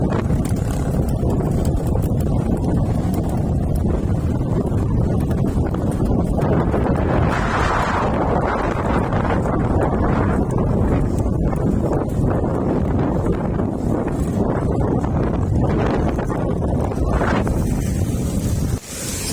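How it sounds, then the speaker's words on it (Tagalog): Strong headwind roars into the microphone during a bike tour, a loud, steady rushing buffet that fills the whole clip without letup. "Lakas ng hangin."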